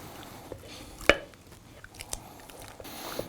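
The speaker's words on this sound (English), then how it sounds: "The next step is to finely mash them up." Boiled potatoes for soup being mashed with a big spoon in a pot, with soft wet squelches and a few sharper knocks of the spoon scattered irregularly, close up and without talk.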